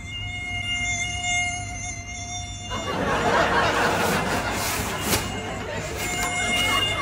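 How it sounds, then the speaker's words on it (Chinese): A mosquito whines close by indoors, a thin, high, steady buzz for the first few seconds, then broader rustling noise takes over. "小心点，有蚊子。"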